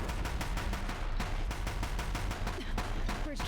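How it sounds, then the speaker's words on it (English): Deathbringer war machines in Horizon Zero Dawn fire rapid, evenly spaced bursts of heavy gunfire, loud and continuous for several seconds, with faint metallic sounds between the shots. "If the Deathbringers keep firing,"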